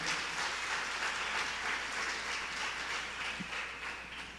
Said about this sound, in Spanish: ¿Qué tal si usted le da un fuerte aplauso al Señor en esta mañana?